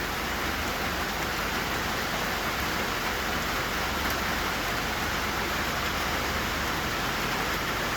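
Steady rain drumming on the tin roof of a deck and camper at a lake in summer, making a dense, even hiss that continues without a break and with no voices.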